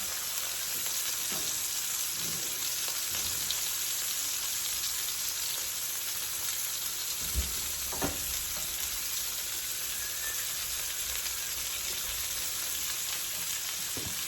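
Broccoli fries cut side down in a one-skillet chicken dish, giving a steady broadband sizzle with a few soft clicks and bumps of the pan, moderately quiet and without talk.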